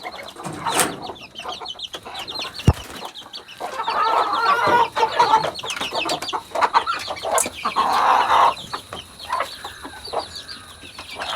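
Chickens on a farm cluck and chatter close by, a busy overlapping stream of calls with a brief crow-like cry and a sharp knock partway through.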